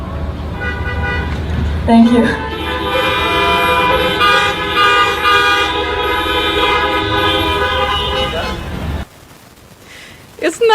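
A long, loud blaring car horn holds steadily for several seconds, then cuts off abruptly, leaving quieter background noise with a few faint sounds.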